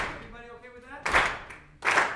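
A group claps twice in rhythm at a music masterclass, two firm bursts spaced under a second apart, following a brief stretch of a sustained voice.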